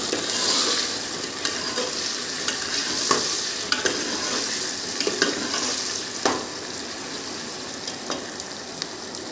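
Tomatoes fry in hot oil for dal tadka, a bright steady sizzle close up, broken by intermittent stirring clicks and scrapes against the pan.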